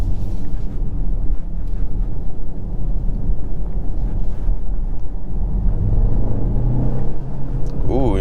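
Turbocharged engine of a 2023 BMW X1 xDrive28i in sport mode, a steady close rumble under road and wind noise, with a rising whoosh of turbo spool near the end.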